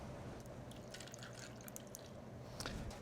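Grapefruit juice poured into a glass of Campari, a soft continuous liquid trickle with a few small drips and splashes, close and fairly quiet, with no talking.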